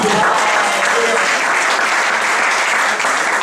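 A church congregation claps loudly and steadily, a thick, continuous roar of hands filling the space for a few seconds.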